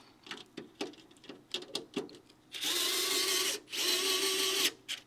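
A Vessel electric screwdriver loosens the rear screws of a computer power supply, starting with short stuttering bursts of motor whir and then running in two longer steady whines with a clear pause between them, close and alone.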